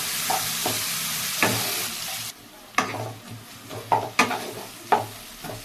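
Finely chopped onion and whole cumin seeds sizzle in hot oil in a pan, a steady frying hiss broken by sharp clinks and scrapes of stirring, close by.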